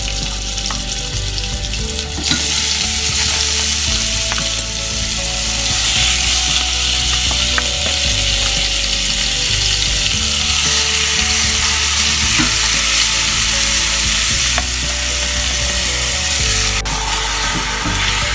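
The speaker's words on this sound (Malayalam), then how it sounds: "നെയ്യൊന്ന് ചൂടായി കഴിയുമ്പോൾ നമ്മൾ അതിലേക്ക് ഈ ചിക്കൻ ചേർത്ത് കൊടുക്കുകയാണ്" Chicken frying in hot ghee in a pan gives a loud, steady sizzle lasting throughout, dense and continuous with occasional faint scrapes and stirs underneath.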